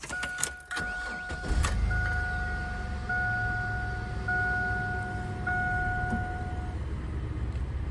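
Flood-damaged Chevrolet S10 Blazer truck engine cranking with a few clicks, then catching and settling into a steady idle rumble, with two electronic warning chimes ringing over it.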